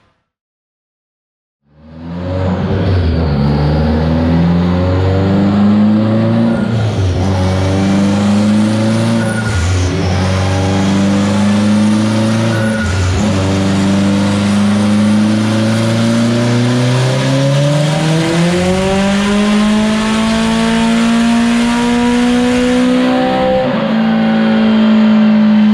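An Acura NSX engine on a dyno on low boost, at a steady, loud, unbroken roar that climbs gradually in pitch through a long pull, rising sharply near the end before easing.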